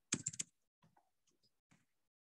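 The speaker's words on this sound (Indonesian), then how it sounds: "Terus di sini kayak mengetik revisi 1." Someone types on a computer keyboard while editing a file, a quick cluster of clicks followed by sparse, faint keystrokes in a quiet room.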